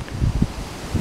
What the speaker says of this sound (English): It's just the wind. If it wasn't for the wind, it wouldn't be bad at all, but it's pretty windy.